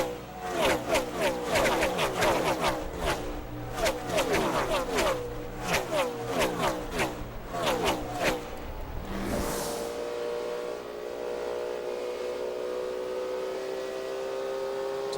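NASCAR stock cars race around an oval track in the 2007 Coca-Cola 600, engines snarling in rapid pulsing waves as they pass close, then settling into a steadier, smoother drone.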